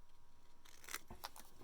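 Scissors cut through a paper strip for a craft card, making a few quick, crisp snips close by. The sound is faint and sits over a low background hiss.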